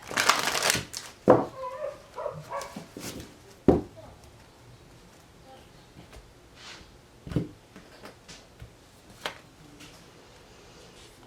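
Brisk, papery riffling bursts of a deck of cards being shuffled up close, repeating several times, with a soft voice speaking in between.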